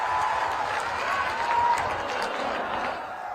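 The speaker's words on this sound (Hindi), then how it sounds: "भाई समरुद्ध वर्मा के लिए जोर से ताली बजाइए जरा।" A crowd at a Bihar election rally claps and cheers in a dense, continuous wash of applause that holds steady for a few seconds.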